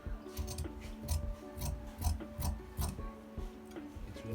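Scissors cutting fabric for a senator sleeve, a run of close, crisp snips repeating in a steady rhythm along a curved line, with faint background tones.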